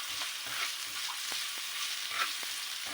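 Chicken pasta frying in a pan as salt and black pepper are stirred in, with a steady close sizzle and a few soft scrapes of the spoon, no voices.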